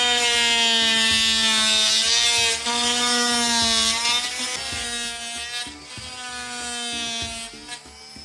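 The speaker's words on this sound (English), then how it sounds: "I'll also use this same blade to plunge cut right through this drywall" A Sonicrafter oscillating tool plunge cuts through drywall with a loud, steady buzzing whine, pitch wavering slightly as the blade sinks in, alone and close.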